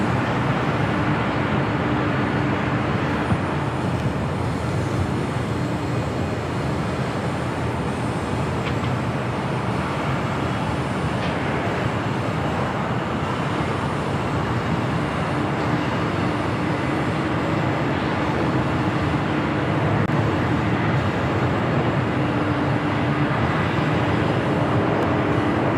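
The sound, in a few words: jet airliner taking off at LAX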